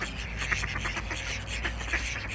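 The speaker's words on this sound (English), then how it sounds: "all of the birds in France are noisy." Squawking, quacking birds in France call repeatedly in a noisy chorus, steady and moderately close, with faint chatter mixed in.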